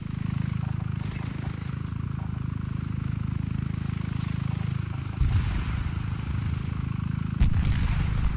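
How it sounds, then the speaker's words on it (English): Enemy gunfire in the ArmA 3 military shooter, a steady rumbling barrage of distant shots and low booms that grows heavier near the end, with no talk over it. "you're taking enemy gunfire from bearing 240 from your current position"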